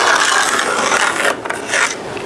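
Rasping, filing-like cutting as drywall and a wood window sill are trimmed back for a new Andersen 100 Series window, a steady close scraping that dips briefly and returns, with no talk.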